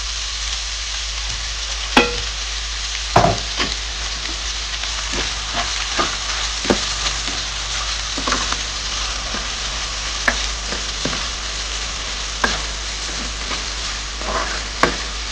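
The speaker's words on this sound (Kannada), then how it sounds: "ಈರುಳ್ಳಿ ಸ್ವಲ್ಪ ಫ್ರೈ ಆಗಿದೆ." Onions frying in a pan for an eggplant (ennegayi) curry from Karnataka, with a steady sizzle throughout and repeated sharp scrapes and clicks of a utensil stirring, close and alone.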